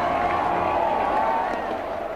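A huge crowd at the Black Nazarene religious procession festival in Manila, Philippines, gives off a dense, continuous roar of many voices with scattered claps and cheers.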